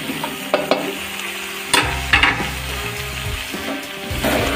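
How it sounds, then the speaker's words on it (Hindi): Eggplant pieces frying with potatoes and other vegetables in a pan, a steady sizzle broken by scraping stirs from a spatula, close and moderately loud, with no talking. "थोड़ी देर बैगन को भी इसके साथ फ्राई करूँगी सब्जी के साथ"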